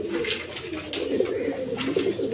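A pair of red Lahori pigeons, a male and a female, give soft, low coos close by, murmuring continuously over a faint background hum.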